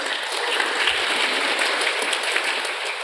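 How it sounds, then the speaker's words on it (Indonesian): A gathering at an official installation ceremony for local craft council officers applauds, a dense, steady patter of many hands that continues evenly throughout. "Tepuk tangan untuk kita semua"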